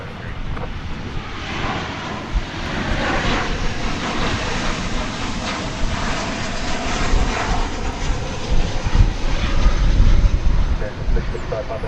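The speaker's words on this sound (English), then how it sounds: "runway 18 left, clear takeoff" A jet airliner roars loudly and continuously down runway 18 left at DFW Airport on its takeoff roll, its broad engine rumble mixed with wind buffeting and building toward the end.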